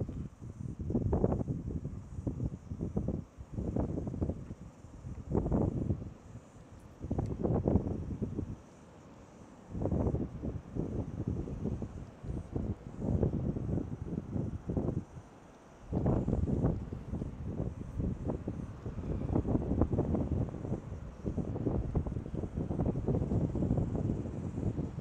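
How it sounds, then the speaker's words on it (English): Gusty wind blows outdoors and buffets the microphone in loud, rumbling surges, rising and dropping in waves with short lulls between the gusts. "Just wait for that wind to die down there a little bit"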